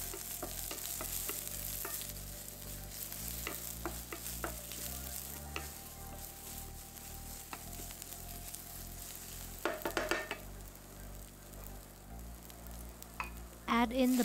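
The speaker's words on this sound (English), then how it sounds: "Add the sliced shallot and sauté until fragrant" Sliced shallot sautéing in oil in a pan over medium heat, a steady sizzle with occasional stirring scrapes and clinks, and a low background hum running underneath throughout.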